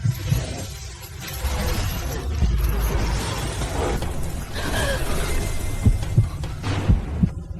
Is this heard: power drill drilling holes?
no